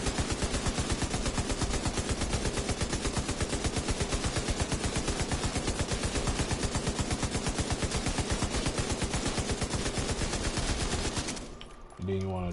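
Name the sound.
light machine gun fire in Division 2 video game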